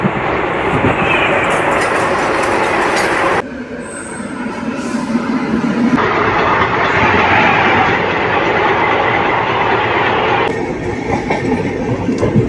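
The Sircar Express runs along at speed with a loud, continuous rumble, rattling carriages and clattering wheels from onboard, its tone shifting abruptly several times as the surroundings change.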